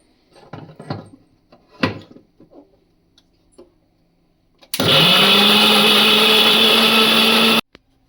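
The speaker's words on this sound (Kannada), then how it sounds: "ತರಿಯಾಗಿ ರುಬ್ಕೋಬೇಡಿ, ನೈಸ್ ಪೇಸ್ಟಾಗಿ ಗ್ರೈಂಡ್ ಮಾಡ್ಕೊಳ್ಳಿ." A mixer grinder blends tomato and onion into a smooth paste, a loud steady whirring roar that starts suddenly after some light kitchen clatter, runs for about three seconds and cuts off abruptly.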